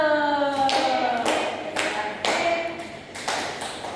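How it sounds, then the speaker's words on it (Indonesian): Children in a classroom clap their hands together in a few loud bursts at a teacher's cue, with bright ringing tones from a game sound and brief children's voices mixed in. "Oke, tepuk tangan dulu."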